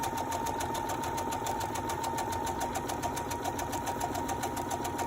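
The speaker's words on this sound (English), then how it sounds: "And I'm just doing a regular center needle straight stitch." A sewing machine runs a center needle straight stitch, giving a continuous, evenly pulsing mechanical whir with a steady needle rhythm close by and no voice over it.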